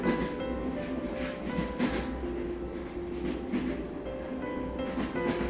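Steady rumble of a train carriage in motion, with low continuous rolling noise and faint periodic clatter, heard alone at a moderate, even level.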